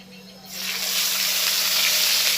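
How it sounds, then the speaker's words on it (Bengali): Onion paste hitting hot oil in a pan after fish has been fried, a loud steady sizzle and hiss swelling up after a brief quieter start, close by with no talk. "এবার ওর মধ্যে আরেকটু তেল দিয়ে দিয়েছি পেঁয়াজ বাটাটা"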